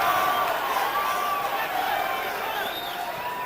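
A fight crowd at a women's MMA bout between Stephanie Dobbs and Dee Hamaguchi roars in a steady, loud wash of cheering, with voices carrying over it.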